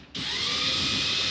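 Power drill kicks in abruptly and runs at a steady high whine, driving screws into a Shield Autocare sliding camper van window frame, close and continuous.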